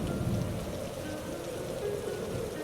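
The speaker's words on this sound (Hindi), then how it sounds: "इतनी ठंडी है, तेज हवाएं भी चल रही है, बिजली भी कड़क रही है" Heavy rain pours steadily in a storm scene from an animated story, a dense, even hiss of rainfall heard alone with no talking.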